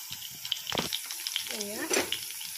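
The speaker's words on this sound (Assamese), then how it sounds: "তেলখিনি গৰম হৈ গ'ল পিয়াজখিনি দি দিম এতিয়া পিয়াজখিনি দি দিলোঁ" Onions sizzle in hot oil in a pan for a fish roe dish, a close crackling fry with brief stirring noises while a voice talks over it.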